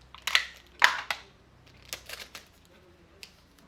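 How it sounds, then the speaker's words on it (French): A few sharp crinkling rips of adhesive tape pulled off a roll, followed by softer rustling and pressing as it is applied to a plastic bottle, close up and otherwise quiet. "On va mettre un scotch"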